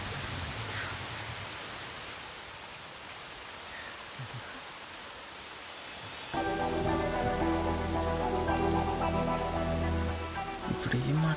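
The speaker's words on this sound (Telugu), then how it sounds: "వర్షం చాలా చల్లగా ఉంది కదా" Steady rain falls as a dense, even hiss, and music joins partway through while the rain keeps going underneath.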